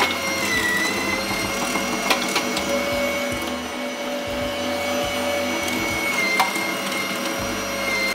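Electric meat grinder mincing meat for khinkali dumplings, a steady loud motor whir with grinding texture running continuously without pause, no talking over it.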